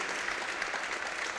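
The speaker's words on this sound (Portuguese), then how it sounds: "Salva de palmas para Jesus." A church congregation applauds during a Thursday evening worship service, a dense, steady wash of clapping filling the room at even loudness throughout, with no voices standing out.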